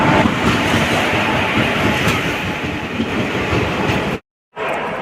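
A passenger train rumbles steadily through a railway station in Odisha at night, a loud, broad roar with rhythmic wheel clatter that drops out briefly near the end before resuming, with no talk.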